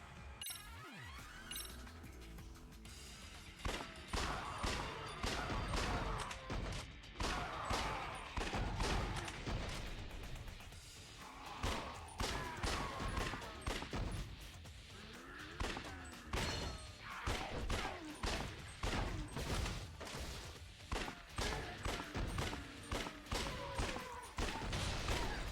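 Rapid video-game gunfire from the Lost Judgment shooting minigame, dense bursts of shots cracking steadily for most of the stretch, loud and close with brief pauses, a faint voice now and then underneath.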